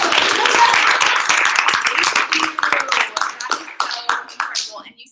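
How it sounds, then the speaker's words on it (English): An audience at a business success meeting claps in a loud burst that thins into scattered, separate claps before fading out over about five seconds. "Let's clap for that."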